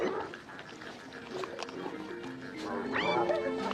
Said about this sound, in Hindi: और फिर आती है गुर्राने की आवाज, मतलब गुस्सा।